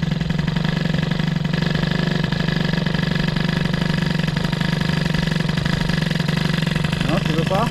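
A Peugeot 103 moped engine idles cold and running slightly lean, a steady buzzing putter that stays loud and close throughout, with a voice speaking over it.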